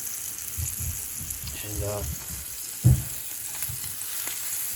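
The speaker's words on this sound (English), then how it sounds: "I just put them in a frying pan with a little bit of butter and some salt" Deer heart pieces frying in butter with salt in a frying pan over medium heat, a soft steady sizzle with stirring and a brief clatter, a voice speaking briefly over it.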